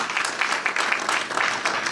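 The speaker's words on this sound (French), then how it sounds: "Je crois que ça mérite des applaudissements" Brief burst of applause at a charity gala in Brussels, a dense, even patter of many hands clapping at moderate distance.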